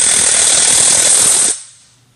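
Impact-style power tool securely fastening stock mounting bolts on a wheelbase extension kit, a loud close rattling burst lasting about a second and a half that then cuts off to near silence.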